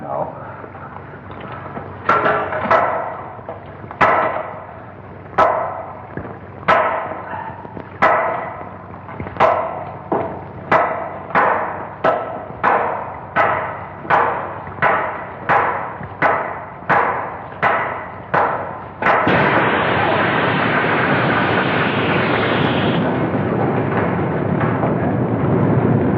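Two hammers pounding into a wall in a 1951 film scene, a long run of sharp, evenly spaced metallic blows that quicken, then give way to a steady rushing noise.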